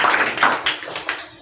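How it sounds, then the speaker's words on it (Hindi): Children in a classroom clapping in applause, a quick run of close hand claps that fades toward the end, with no talking over it. "बिल्कुल बिल्कुल तालियां हो जाए।"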